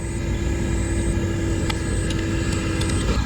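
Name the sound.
excavator loading stones into a dump truck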